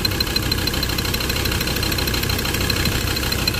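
A car engine idles with a cylinder misfire, giving a loud, steady, close rumble with an uneven, rough pulse throughout and no voices.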